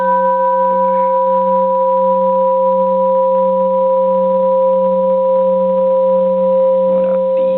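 A bronze Japanese Buddhist temple bell hums with several steady, sustained tones that hold at an even, loud level throughout, with no voices present.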